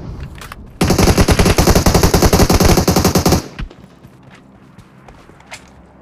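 A loud, rapid burst of automatic gunfire in the PUBG Mobile game lasts about three seconds, then drops to faint footsteps and a few scattered sounds.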